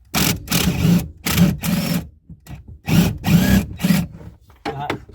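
A power drill buzzing in repeated short bursts as it tries to back off a bolt that keeps spinning, with whirring pulses separated by brief pauses and close by, under a little background murmur.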